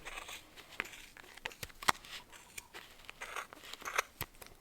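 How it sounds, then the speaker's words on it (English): Quiet, irregular snips and crisp cutting sounds of sharp scissors cutting super bulky yarn, spaced unevenly, close up with no talking. "you take a sharp pair of scissors and you start cutting in the center"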